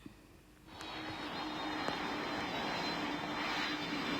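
Airplane engine in a Roblox flight game (PTFS) at Lukla airport, a steady broadband roar that swells in after a quiet half second and holds loud and constant, with no talking.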